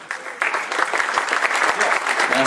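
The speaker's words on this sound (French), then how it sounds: "que vous pouvez applaudir." Audience applause at a Winamax Poker Tour event swells into a steady, dense round of clapping that fills the whole stretch at fairly close range.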